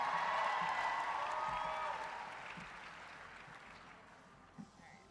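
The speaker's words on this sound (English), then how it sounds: "Give her a big round of applause, everybody." Audience applause at a cosplay championship stage show, a crowd's clapping and cheering that starts strong and gradually fades over several seconds, with a faint voice near the end.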